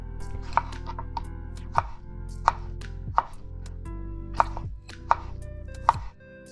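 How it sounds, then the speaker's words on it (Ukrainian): Knife cutting tomatoes into rough pieces on a board, seven or so distinct close chops spaced about a second apart, with no voices. "У довільній формі нарізаємо томати"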